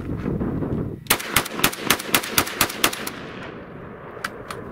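An AK-style PSA rifle empties the last rounds of a Korean-made magazine, firing about ten loud, sharp shots in quick succession at a fairly even rhythm, then one last isolated shot after a short pause.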